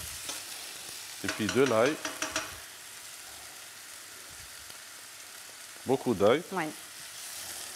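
Garlic sizzling and being stirred in a pan, heard as two short bursts of frying separated by quiet, under a French voice talking about adding plenty of garlic.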